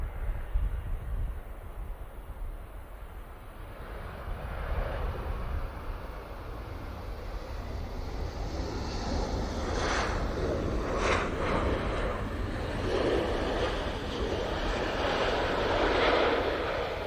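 A Boeing 747 arriving to land, its jet engine roar a steady broad rumble that swells slowly and grows louder toward the end, heard alone outdoors.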